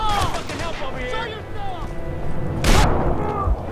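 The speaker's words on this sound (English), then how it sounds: "He must have shot you through the wall." Gunfire in the Call of Juarez: The Cartel game, with one sharp loud shot standing out midway over ongoing talk from players.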